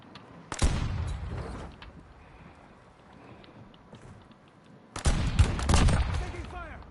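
Bursts of gunfire in the video game Warzone crackle in two loud volleys separated by several seconds of quieter rumbling ambience, with rapid overlapping shots in each burst.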